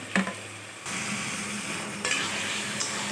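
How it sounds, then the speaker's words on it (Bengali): Taro leaves sizzle steadily in a hot pan while a utensil stirs and scrapes them, with occasional clinks of metal against the pan, close and continuous with no voices. "নেড়ে চেড়ে কচু শাকটাকে ভেজে নেব।"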